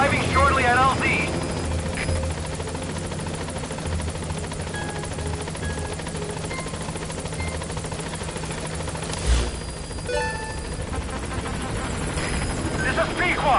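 A helicopter arriving at a landing zone in Metal Gear, its steady rotor drone loud and continuous throughout, while radio voices talk over it.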